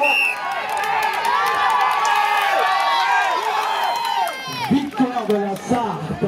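Crowd cheering at the sprint finish of a national cycling race in Saint-Georges-sur-Erve, a loud continuous roar of shouting and encouragement that breaks into scattered voices near the end.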